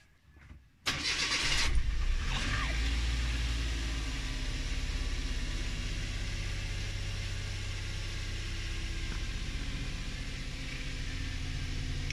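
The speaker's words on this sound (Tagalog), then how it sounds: "Pandarin na rin natin yung makina para ma-warm up din" A Suzuki Every Wagon DA64W starts up with a sharp crank, then settles into a steady, close idle as the engine warms, a low even rumble running on without interruption.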